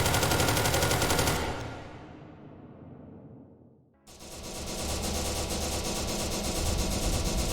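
Sustained automatic weapon fire from SCP:SL video game guns, a loud dense burst that cuts off and fades, then another long continuous volley resumes after a brief gap.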